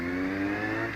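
Kawasaki Z750 motorcycle engine running with a rough, noisy mechanical knock, a steady loud drone with strong low harmonics and no talking.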